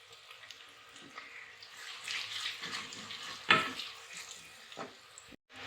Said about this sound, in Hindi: ये हमने प्याज डाल दिया घी के अंदर। इसको हम भूनेंगे, अच्छी तरह फ्राई करेंगे।